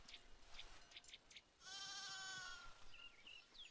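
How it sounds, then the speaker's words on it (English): Baby sheep bleating in the colony-building video game Foundation: a single wavering bleat in the middle over quiet game ambience, with faint chirps before and after. "And now we have little baby sheep,"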